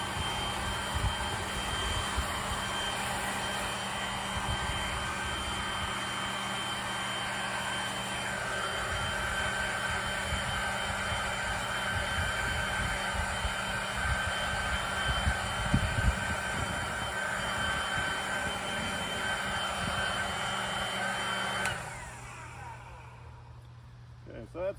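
A Ryobi cordless leaf blower blows leaves with a steady, loud rushing roar that holds for about twenty seconds and then abruptly winds down.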